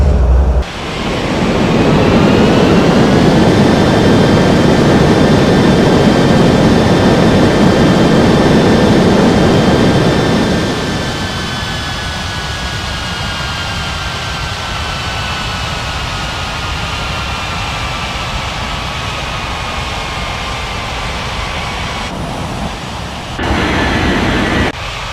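Jet aircraft engines in an air traffic control game at Winter airport runway 13 right, a loud roaring spool-up with a rising whine that holds, then eases to a quieter steady drone before a brief burst near the end.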